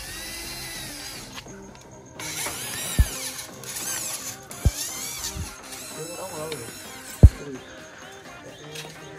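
Power drill boring into the arm of a glass door for a homemade Ferrari replica, heard in several short whirring bursts with sharp knocks between, under ongoing talk in a workshop.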